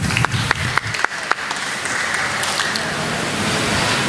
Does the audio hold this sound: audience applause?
yes